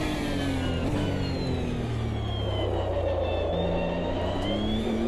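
Nissan GT3 race car engine in a racing video game, held at full throttle with a steady droning roar and rising harmonic tones, loud and continuous with no talk.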